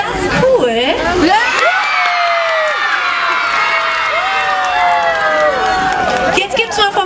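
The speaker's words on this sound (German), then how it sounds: "alle reißen die Arme hoch und klatschen. Schreit so laut ihr könnt!" Children cheering, screaming and clapping with arms raised at a kids' event, a loud sustained crowd of high shrieks and whoops lasting several seconds, with an adult voice over it.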